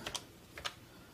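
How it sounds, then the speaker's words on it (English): Keys struck on a Brother EP-22 electronic typewriter, two quick pairs of crisp clicks in a quiet room, close and distinct. "And so now I can start typing."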